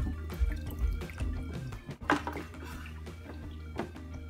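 Water drips and trickles during a fish tank water change, with soft splashes and a clink near the middle over a low background rumble.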